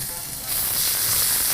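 Spices with ginger and chili roast in a hot pan, giving a steady, bright sizzle that swells louder partway through and then holds, with no talk over it.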